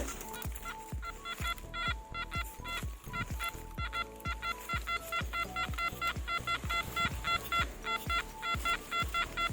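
An Anfibio Multi metal detector sweeps outdoors and gives a fast, pulsing warbling signal tone that repeats without a break. Dull low thumps run under it, and no one speaks.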